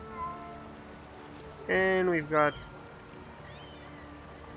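Cats meowing in the video game Drakensang: The River of Time, two loud, close meows in quick succession while someone talks over quiet ambient background.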